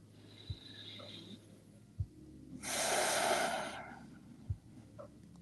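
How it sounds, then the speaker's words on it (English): Slow, smooth breathing during yoga relaxation: a long, soft airy exhale swells near the middle, with a few faint snort-like nasal breaths on either side, close and quiet with no talking. "Nice, smooth breaths."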